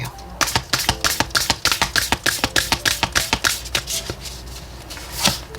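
Oracle cards shuffled by hand close up: a quick, regular run of crisp riffling snaps and slaps that slows and fades near the end, with no voices.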